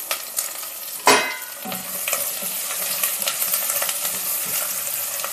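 Ginger, potatoes and curry leaves frying in a pan for kaara bath, a steady close sizzle with a sharp clink of a spoon early and light stirring scrapes throughout.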